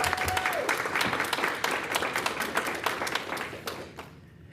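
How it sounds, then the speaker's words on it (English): Brisk applause from the audience at a Board of Education meeting honours students, with many hands clapping in a dense, even patter that tapers off and fades out near the end. "Let's give them a big round of applause."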